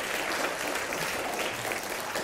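At a retreat worship service, the congregation keeps up a thick, steady round of hand clapping, a sustained wash of many hands at even volume.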